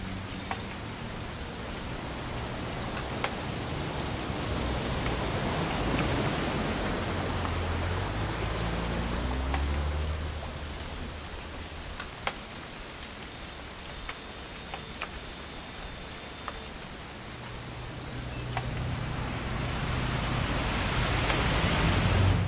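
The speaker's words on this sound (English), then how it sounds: "It's gonna rain the whole weekend, isn't it?" Steady rain falls in the video game What Remains of Edith Finch, a continuous broadband hiss with faint ticking drops, fairly loud throughout and swelling slightly near the end, with no talking.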